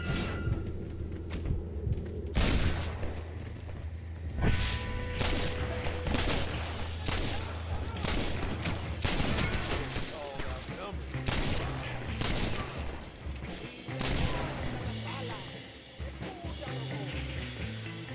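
Gunfire in the Red Dead Redemption video game, with repeated sharp shots and rapid bursts, including Gatling gun, rifle and handgun fire, cracking over a busy backdrop of game sounds for the whole stretch.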